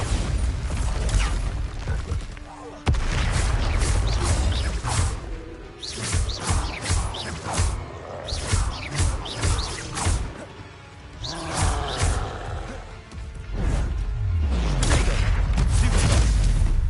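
Confringo and Bombarda explosive spells cast in Hogwarts Legacy on hard mode on PS4: loud, dense game combat with repeated booms, whooshes and rumbling bursts layered over one another almost continuously.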